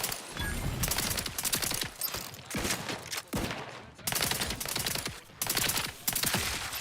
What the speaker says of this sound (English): Just shoot him in the head.